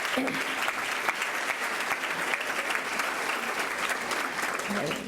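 Sustained round of audience applause for a panel at a diversity discussion, dense and even throughout, with a faint voice or two mixed in beneath the clapping.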